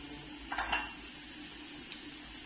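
Beetroot halwa stirred with ghee in a pan, a quiet scrape and clink of a spoon against metal around the middle, then one small tap later, with faint background hiss.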